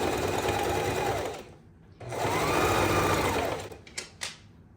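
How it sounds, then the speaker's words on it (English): A home sewing machine whirs close and steady, stitching bias tape onto a corset during a beginner graduation-dress project, running in two long bursts separated by a brief pause, then a few short stitches. "After I sewed another stay stitch, I trimmed the excess fabric, then sewed the bias tape on."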